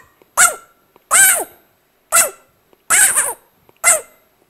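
A small dog barks nearby in five loud, sharp yaps, some doubled, with short pauses between them.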